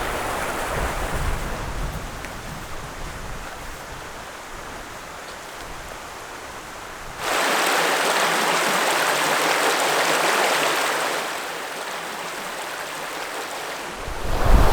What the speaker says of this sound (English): There's that wind. That's the wind that was forecast.